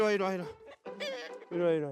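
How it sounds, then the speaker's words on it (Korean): Native Korean chickens of several breeds, including white silkies, cluck and squawk in a coop in three loud, close bursts with brief pauses between them. "토종닭, 백봉, 청개 등 다양한 종류의 닭들이 건강하게 자라고 있다고 하네요."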